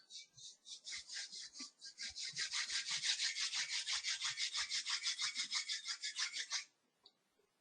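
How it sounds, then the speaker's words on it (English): Palms rubbing together briskly in a quiet room, a fast run of dry swishing strokes that starts in short bursts, builds to steady even rhythm for several seconds, then stops abruptly. "Now you rub your palms together and place them on your closed eyes."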